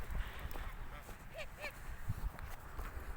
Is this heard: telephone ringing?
no